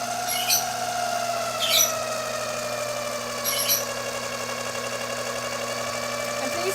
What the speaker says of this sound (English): turn the dough maker on again